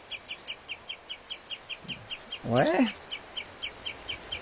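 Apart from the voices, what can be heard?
birds singing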